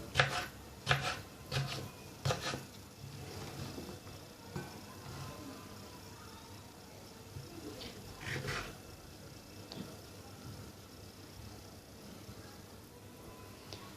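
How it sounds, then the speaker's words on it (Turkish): Peppers are chopped on a board in a handful of sharp knife knocks early on, followed by quieter scattered cutting taps and faint clatter against a low room background. "Şu anda bu biberleri böyle doğrarken"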